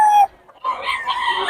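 A rooster crows in two bursts, a short clear call followed by a longer, raspy crow, close and fairly loud, at a rooster market in Bocaue.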